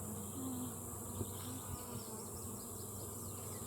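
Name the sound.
bees buzzing in hive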